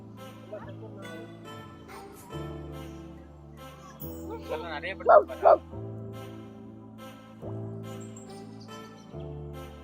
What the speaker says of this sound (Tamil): ஒரு நாய் மட்டும் இருக்கு